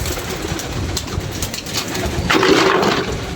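Pigeons cooing on a rooftop where flocks are kept, soft repeated coos under steady outdoor noise, growing a little louder toward the end.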